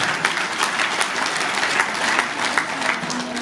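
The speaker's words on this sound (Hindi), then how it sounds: "कृपया ताली बजाने का कष्ट करें।" Close, loud clapping from an ashram audience during a kirtan, steady and continuous with individual claps standing out against the crowd.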